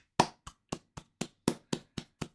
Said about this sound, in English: let's get a huge round of applause for everyone involved